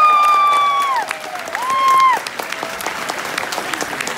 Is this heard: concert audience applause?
yes